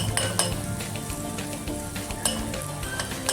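Garlic and green chillies sauté in a pan with a steady, close sizzle and crackle, broken by occasional clinks and scrapes of a spoon against the metal.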